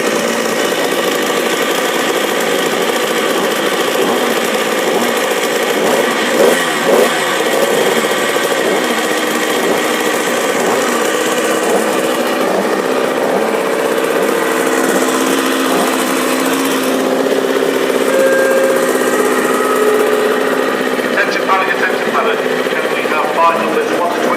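A loud, continuous high-revving Yamaha TZ racing motorcycle engine at the Manx Grand Prix drones steadily throughout, its buzzing tone shifting slightly with speed, with a voice faintly underneath.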